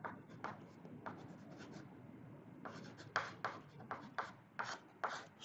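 Chalk or marker strokes writing a note about a milkman's daily milk for a class 6 maths lesson, soft close scratches in short bursts, some quick and rhythmic, with no speech.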